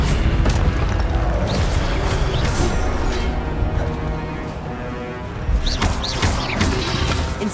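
Incendio fire spell cast in Hogwarts Legacy, heavy whooshing booms and crashing bursts of flame over a dense, loud rumbling background, with several sharp flares in close succession.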